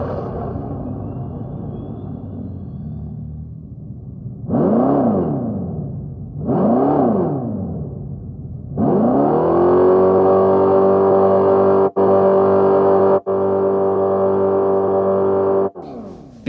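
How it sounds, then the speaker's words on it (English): A 2025 Dodge Charger Daytona Scat Pack EV with a Fratsonic chambered exhaust gives two synthetic swelling revs, then a sustained loud droning roar with brief dropouts, close by. "Fratsonic chambered exhaust"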